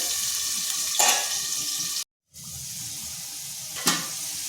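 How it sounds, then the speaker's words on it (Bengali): Potatoes lightly frying in a pan give a steady, close hiss, broken by two brief louder bursts as they are moved about and one short silent gap. "আলুগুলোকে হালকা ভেজে নিচ্ছি"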